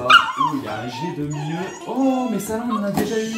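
A dog barks, yips and whimpers repeatedly at close range, its excited cries running alongside and between a woman's French chatter.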